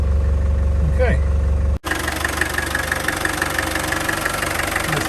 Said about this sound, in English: There's 200 TDI engine just doing what it's supposed to.